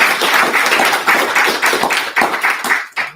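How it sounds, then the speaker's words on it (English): Audience applause at an arts lecture event, steady dense clapping from a crowd that carries on loudly and evenly for several seconds before thinning out at the end. "Please give a round of applause for Phyllis Becker."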